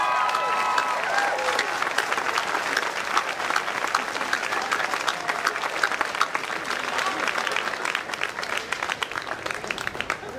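A large graduation crowd at a University of Oregon ceremony claps steadily and continuously, a dense wash of applause sustained throughout with no break.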